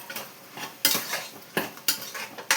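Prawns fry in a pan while a utensil stirs and scrapes them, giving several sharp metallic clinks and scrapes over a faint sizzle, close by and fairly quiet.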